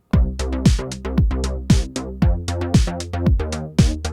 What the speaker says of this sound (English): I have a simple bass line that sounds like this